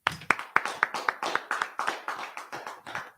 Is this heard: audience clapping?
yes